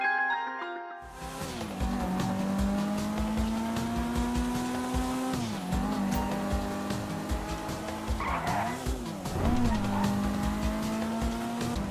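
A Kuruma sports car driven in GTA Online, its engine holding a steady droning tone that dips and rises with gear changes and throttle, with tire squeal and skidding during turns, close and continuous.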